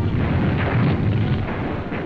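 Artillery shells exploding during the 1944 battle for Carpiquet Airfield in Normandy, heard as a continuous dense low rumble of blasts with no distinct single bangs.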